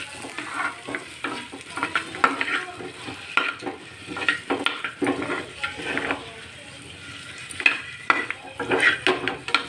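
Eggs frying in oil in a pan, with clinks and scrapes of a utensil stirring against the pan over steady sizzling, loud and close throughout.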